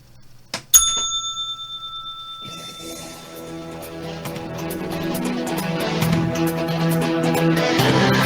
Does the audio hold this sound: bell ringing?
yes